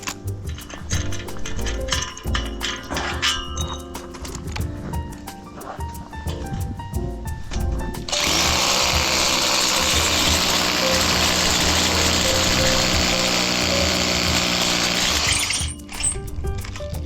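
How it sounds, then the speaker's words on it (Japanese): A vibration hammer drill bores anchor holes into a wall, first in short choppy bursts among clatter, then in a loud continuous grinding run of about seven seconds before stopping. "穴を開けていっております。"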